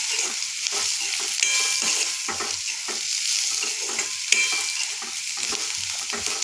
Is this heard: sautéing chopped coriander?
yes